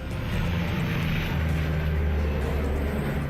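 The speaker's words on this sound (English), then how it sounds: "We had all sorts of aircraft flying, helicopters everywhere." A continuous engine roar from an aircraft passing overhead, steady and fairly loud, with no voices.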